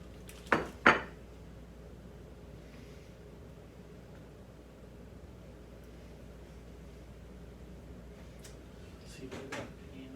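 Pots and pans being rummaged through in a home kitchen, a couple of sharp metallic clanks at the start, then quiet room tone and a faint clatter near the end.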